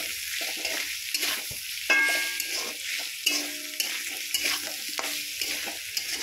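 Spices being stir-fried in a pan for a village-style vegetarian ridge gourd dish with a little turmeric, giving a steady soft sizzle broken by scraping stirs of a spatula, with no talking.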